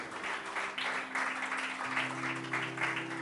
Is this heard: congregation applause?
yes